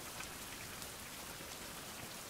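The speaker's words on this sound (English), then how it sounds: "it's raining pretty heavy out there right now." Heavy rain falls steadily outside a shelter, a dense, even hiss of drops with no pauses, heard at moderate distance and without voices.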